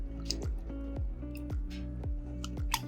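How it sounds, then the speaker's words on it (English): Squash and collard greens being stirred in a pot, giving a run of soft wet squelches and drips that repeat roughly every half second, close and steady, with no talking. "Let's give it a good stir."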